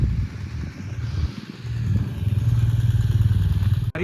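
Bikers' motorcycles rumble on the Taglang La mountain pass at 17,182 feet along the Leh–Manali highway, a close engine putting along with clattering thumps that builds to a steady throbbing idle before a sharp knock near the end.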